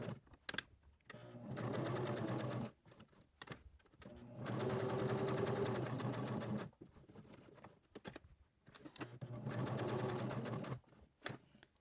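A sewing machine stitches around the edge of a fabric notebook cover in three sustained bursts of steady, rapid needle motor hum, separated by short quiet pauses, close and clear with no talking.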